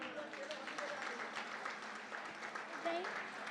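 Scattered applause from an audience at a Hindi kavi sammelan comedy poetry event, a steady dense patter of claps with crowd noise and a voice briefly audible, moderately distant.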